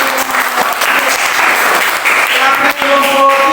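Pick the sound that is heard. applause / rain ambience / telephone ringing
applause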